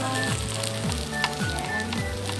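Pork sizzles steadily on a Korean barbecue grill at an unlimited samgyupsal restaurant, a continuous close crackling hiss with faint clinks and no talk.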